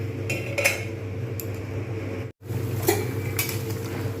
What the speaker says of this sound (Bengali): একটু ঢাকনা দিয়ে দিই